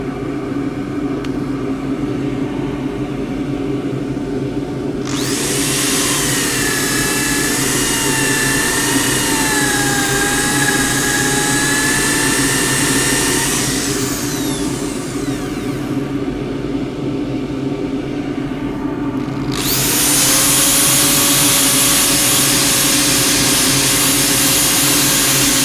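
Abrasive paper at 180 grit rasps against a spinning Tasmanian sassafras rectangular bowl on a wood lathe: two long, loud bursts of broad hissing friction, the second louder, over a steady low motor hum, with no talking.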